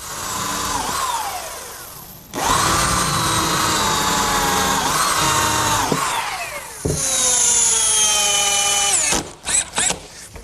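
A power drill drives screws into the center brace of a wooden picnic table in several loud, whining bursts of varying length, with a pause between them and short stuttering pulses at the end.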